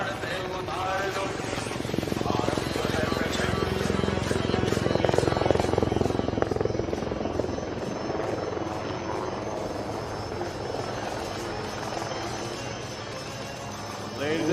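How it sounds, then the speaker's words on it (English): HAL Prachand light combat helicopter flying a display at the Aero India 2023 air show in Bengaluru, a loud steady rotor thrum with fast blade chop, continuous throughout under an announcer's voice. "here she is, the light combat helicopter Prachand, right in front of you."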